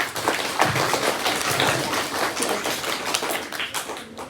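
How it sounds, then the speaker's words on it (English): Steady applause from a school audience at a maths quiz competition as contestants from different houses are introduced, dense overlapping claps sustained throughout at moderate loudness with no talking. "Clap everybody."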